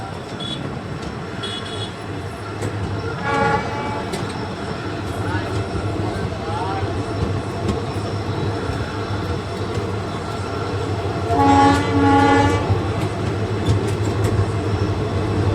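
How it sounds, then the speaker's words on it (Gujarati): A passenger train pulls out of Jetpur bound for Jetalsar, a steady rumble with rhythmic wheel clatter and a brief horn-like tone, heard close under occasional speech. "તો જેતપુરથી ટ્રેન નીકળી ગઈ છે"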